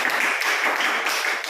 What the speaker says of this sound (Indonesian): buat aplaus dulu buat kamu.